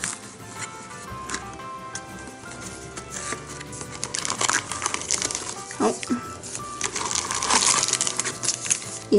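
Foil wrappers of Pokémon TCG booster packs from an XY reprint box being torn open, giving repeated crinkling and tearing rustles that grow louder and busier toward the end over a steady background bed.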